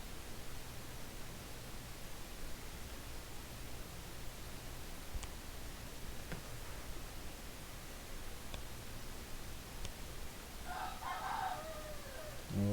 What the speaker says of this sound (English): Oh, shut up, Rooster.